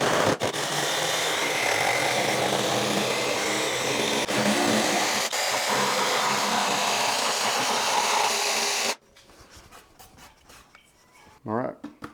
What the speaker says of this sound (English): I'll drill a hole so I can fit in my jigsaw, and we'll cut it out.